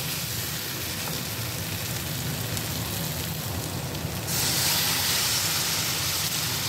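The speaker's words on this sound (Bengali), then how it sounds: "এবার আমি এতে জল দিয়ে দেবো।" Water poured into a cooking pan where gathi kochu (taro) is being cooked, a steady close hissing splash that runs for several seconds and grows brighter and louder near the end, with no talking.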